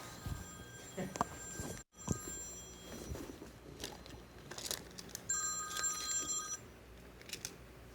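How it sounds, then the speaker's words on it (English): A mobile phone rings faintly under room noise, with thin repeated tonal chirps that come in short bursts and a brief louder stretch near the end. "Excuse me, I'm going to turn my phone off."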